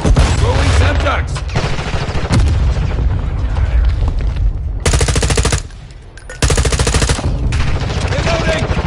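Sustained gunfire in Call of Duty MW II on PS5, loud, near and continuous, with heavy booms that fit a Semtex grenade going off, a brief dip to quieter rumble, then more dense rapid fire.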